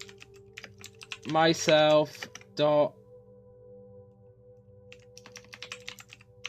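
Rapid clicking keystrokes on a computer keyboard while coding in Unity, a quick irregular patter heard close up before and after someone speaks briefly.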